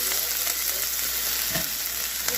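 A beef patty frying in oil in a pan, a dense continuous sizzle and crackle, close and fairly loud, with no voices.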